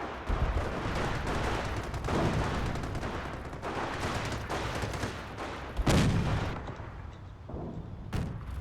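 Constant gunfire fills a real-time strategy game battle, with dense overlapping rifle and machine-gun bursts and heavier booms rising out of the din, steady and fairly loud throughout.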